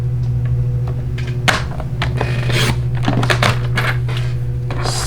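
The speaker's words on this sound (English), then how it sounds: "we can also turn it around and trim a little bit off of the top" Paper card stock being trimmed for a stamped pinwheel card, with a series of short rasping cuts and scrapes close by over a steady low hum, no talking.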